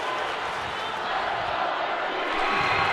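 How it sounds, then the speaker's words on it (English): Hockey crowd at a high school district final between New Albany and Olentangy Liberty, fans loudly chanting and yelling the goalie's name, a dense steady roar of voices that swells slightly toward the end. "The crowd loving it, yelling the dupes."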